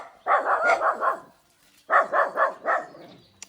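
A mother dog barks in two quick bursts of several loud, close barks each, with a short quiet gap between the runs.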